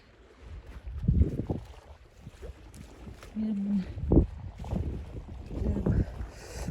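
A passenger ferry crossing at sea in strong wind, with gusty wind buffeting and the low rumble of the boat, heard under a person talking.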